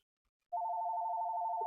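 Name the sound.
telephone ringing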